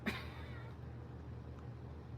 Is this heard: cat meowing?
yes